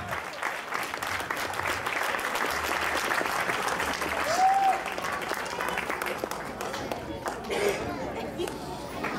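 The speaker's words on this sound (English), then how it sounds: "Can we have one round of applause for all these beautiful ladies here and Sujoy?" An audience claps at length for a group of women on stage, sustained crowd applause mixed with chatter and a voice rising over it, staying fairly even throughout.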